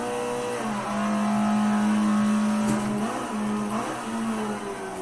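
An Alfa Romeo 33 Stradale driven on the Nordschleife in Assetto Corsa, its engine holding a loud, steady droning note with small pitch shifts as it accelerates and eases off, continuous and close throughout.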